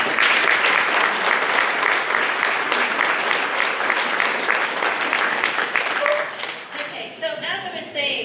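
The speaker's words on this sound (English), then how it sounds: "So can we give him a round of applause, please?" An audience at a presentation gives a sustained round of applause, dense steady clapping that thins out toward the end as a voice begins to speak.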